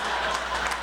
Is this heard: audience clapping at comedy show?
yes